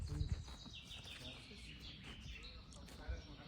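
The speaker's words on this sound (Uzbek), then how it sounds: "Qushning ovozini qarang." Birds sing in Bursa, Turkey, a faint, steady chirping high over a low outdoor rumble, with a voice speaking softly in the background.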